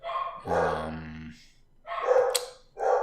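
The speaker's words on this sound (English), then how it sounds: "now they're both really barking" Two dogs bark in short separate bursts, fairly close but not loud, with brief pauses between the barks.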